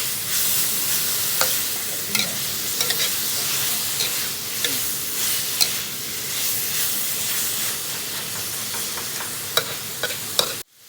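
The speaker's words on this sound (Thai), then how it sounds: "ใส่ปลาที่เราไปหามาได้วันนี้บนไฟ" Fish caught that day cooks over an outdoor fire with soy sauce, giving a loud, continuous sizzle and hiss, broken by stirring scrapes and small pops close by.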